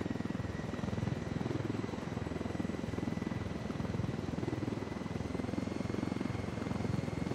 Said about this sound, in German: Ich habe mein Heli um mich.